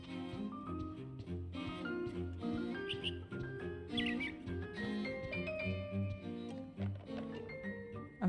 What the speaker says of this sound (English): I'm hearing birds now,